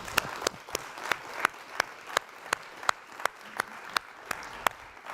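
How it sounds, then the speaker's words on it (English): Applause at a startup showcase sounds as sharp, evenly spaced claps, roughly three per second, standing out over a soft background of quieter clapping. "Now that deserves a round of applause."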